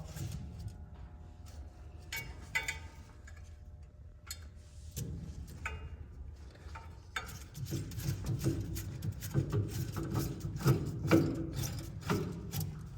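An impeller is threaded back onto the shaft of a straight centrifugal pump during a rear main seal replacement. Close, continuous ratcheting clicks and metallic rattling scrape on, growing busier and louder in the second half.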